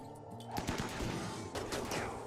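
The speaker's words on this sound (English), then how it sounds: "Right, Solek, fire at that." Gunfire from a RimWorld colony battle, with a few sharp shots and short bursts popping over a busy bed of game sounds, fairly steady and mid-level throughout.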